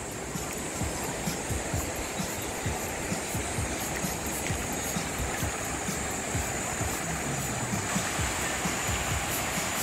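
Water rushing through a rocky irrigation canal, a dense continuous roar of flowing water heard close and loud for the whole stretch, with no voices.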